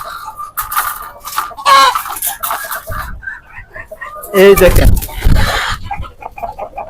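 Native Bangladeshi chickens on a farm clucking and squawking nearby in short bursts, loud and close, with someone talking over them.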